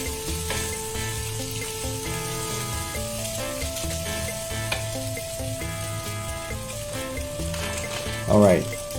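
Noodles for Hokkien mee stir-fry in a hot pan with a constant close sizzle and the scrape and clatter of tossing, and a brief louder splash near the end.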